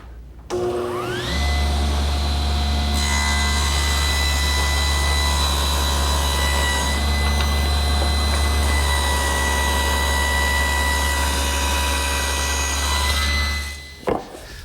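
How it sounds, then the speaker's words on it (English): A table saw rips a wooden board along the rip fence in a woodshop, with a steady loud whine and cutting roar for about thirteen seconds before the blade spins down. "place it against the rip fence and make a pass through the saw"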